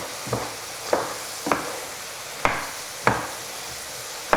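Chicken pie filling sizzles in a hot pan while it is tossed, with a soft steady frying hiss broken by five or six sharp knocks of the pan being shaken, close and unaccompanied by talk.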